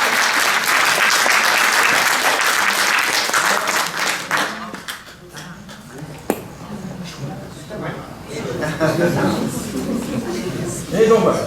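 Theatre audience applauding two candidates in a stage play, a dense burst of clapping that fades midway, then swells again with scattered claps and murmurs.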